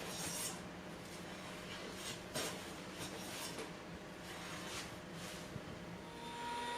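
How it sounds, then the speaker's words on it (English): A hand plane shaving wood boards flat in a woodworking shop, a series of breathy rasping strokes repeating every second or so, steady and close over a constant low background hum, with no voices. "I can start planing them to get a face flat"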